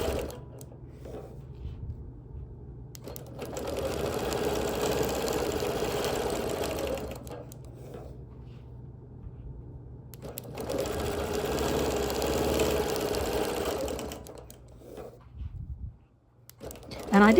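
A quilting machine stitching straight over pins in a custom alma mater quilt, running in two long, steady mechanical bursts separated by pauses. The hum and rapid needle chatter are close and loud.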